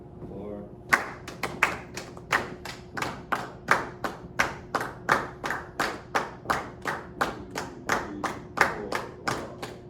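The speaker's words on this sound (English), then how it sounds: "we're just going to clap 8th notes against the feet" A group claps steady eighth notes in a regular, even pulse of sharp hand claps, about twenty in a row, over soft foot taps in a jazz counterpoint workshop for guitarists, with faint voices underneath.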